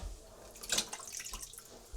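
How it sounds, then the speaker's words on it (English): Faint splashing and dripping of water as foraged mushrooms are rinsed by hand, soft irregular trickles with a brighter splash in the middle, no talking. "Rinse them and put them here to dry a little bit first."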